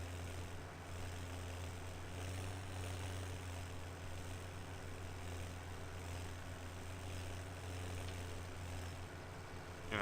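A tractor pulls a mower at about 13 miles an hour in Farming Simulator 17, its engine a steady low droning hum that stays even and moderately quiet throughout.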